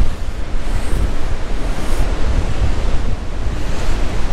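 Strong wind buffets the microphone at the seaside, a loud, continuous roar with surf rushing beneath it and no voices.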